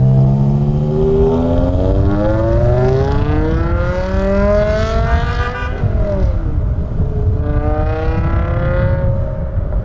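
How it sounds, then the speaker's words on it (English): A high-revving V10 engine in a manual BMW M5 screams up through its gears, pitch climbing, dropping at each shift and rising again as it pulls away. "I've never heard that car pull off like that"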